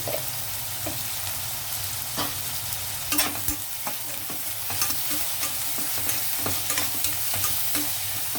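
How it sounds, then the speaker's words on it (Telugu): Ginger garlic paste frying in a pan for a mutton curry with tender tamarind leaves, a steady close sizzle with scattered crackles and the clink of stirring, no voices. "కొంచెం పచ్చివాసన పోయేదాకా అల్లం వెల్లుల్లి వేగనిద్దాం"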